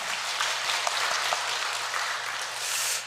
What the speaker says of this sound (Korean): 한 번 더 하나님께 영광의 박수 올려드리겠습니다.